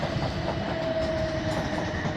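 A train passes at Clapham Junction, its steady rolling rumble and wheel clatter filling the scene close by, with a thin sustained whine riding above for about a second.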